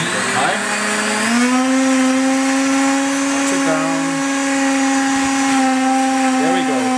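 An OMNIblender motor roars continuously at high speed, a steady loud whine with a rising pitch as it spins up, running alone without talk while blending a kale smoothie.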